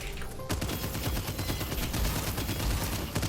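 Automated turrets in the video game Abyssus firing in dense, rapid bursts, a loud continuous chatter of shots with heavy low thumps and no voices.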